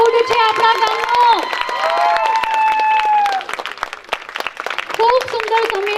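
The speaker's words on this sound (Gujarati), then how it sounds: "તાળીઓના ગડગડાટથી વધાવી લેવો." Applause at a village gathering honouring a teacher named best teacher of the year: dense clapping and cheering from a crowd, mixed with sustained tonal voices or music, lasting throughout at steady loudness.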